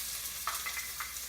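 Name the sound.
chopped onion added to coconut oil in a pot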